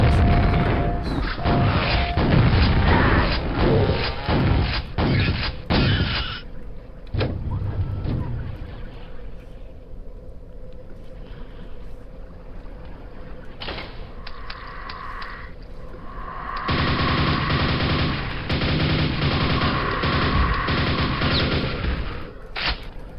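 Shotgun blasts ring out in the Quake video game, a map from the Func Map Jam 9 set, as a dense run of loud booming shots. A quieter lull follows before heavy gunfire and explosions resume.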